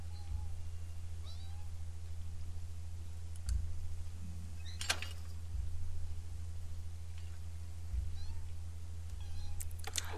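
A small kitten in the video game The Sims 3 gives soft, intermittent meows over a constant low hum and occasional light clicks.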